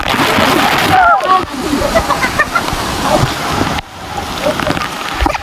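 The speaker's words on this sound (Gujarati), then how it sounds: "હવે આડે નારિયેળ ભરાશે ઉપરથી પાણી આવશે આવ્યું" Water splashes and pours down heavily from above at a waterpark in a steady rush, with brief gaps, as people talk and shout over it.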